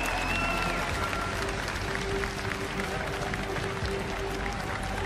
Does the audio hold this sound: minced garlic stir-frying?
no